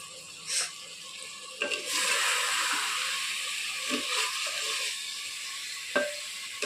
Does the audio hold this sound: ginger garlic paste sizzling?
yes